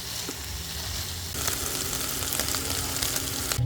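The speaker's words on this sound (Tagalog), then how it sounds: "Ginisa-gisa ko lang siya hanggang sa medyo nagmantika na yung ground beef." Ground beef sautéing with taco seasoning for nachos sizzles steadily in a pan, a close, continuous frying hiss that grows a little louder partway through, with faint stirring.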